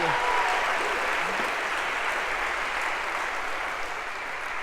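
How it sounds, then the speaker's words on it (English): Applause from a lecture hall audience for a student after a Scratch game demonstration, a dense steady patter of many hands clapping, filling the whole stretch and easing slightly toward the end. "A round of applause for Josh,"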